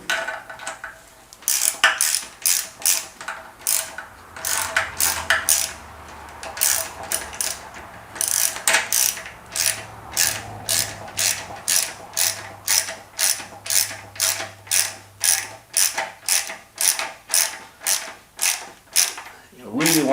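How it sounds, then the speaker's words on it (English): Ratchet tightening a nut on a 650 scrambler motorcycle build: close, rhythmic clicking strokes that come in irregular bursts and then settle into a steady back-and-forth pattern, with no talking. "Everything is fitted in, so now we tighten that nut."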